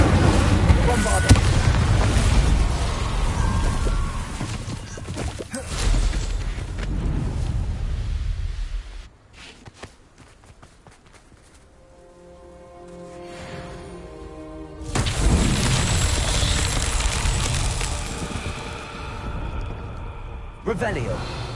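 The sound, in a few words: spell explosions from Hogwarts Legacy video game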